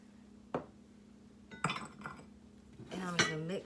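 Brown sugar, flour and chopped pecans are mixed in a small bowl, heard as a few scattered clinks and scrapes of a utensil against the bowl, then a busier rattling stir near the end.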